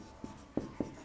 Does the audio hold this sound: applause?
no